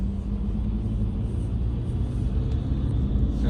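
A car cruising steadily up a road in heavy morning traffic in the USA, its engine and tyre rumble loud and continuous from inside the cabin, with no talking.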